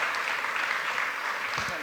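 An audience claps steadily throughout a panel discussion on the music business, a dense, even wash of applause with a voice briefly audible underneath.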